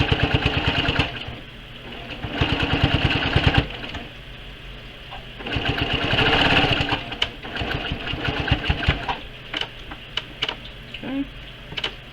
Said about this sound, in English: And then I'm just stitching along the edge.